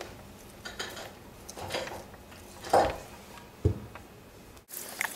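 A utensil scrapes the top and sides of a dish: soft scrapes and light clinks of metal on cookware come in short, irregular strokes, close but fairly quiet, with no talk.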